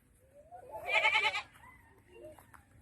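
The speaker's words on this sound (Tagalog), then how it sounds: "Yan oh, kambing." A goat on a farm lets out one loud, wavering bleat close by, followed by softer trailing calls and faint background noise.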